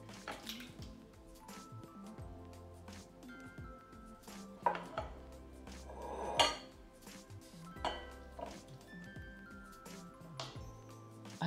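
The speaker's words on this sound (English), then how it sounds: "Let's remove the pot from the stove, drain the potato and put it in a bowl." A pot lifted off the stove and boiled potato drained into a bowl: soft metallic clanks, knocks and clinks of cookware, with a few sharper hits and light dripping, fairly quiet and without talk.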